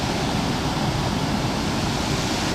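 Waterfall at Twin Falls, Arkansas, a dense, steady roar of rushing water, broad and unbroken, loud and close, with no voices.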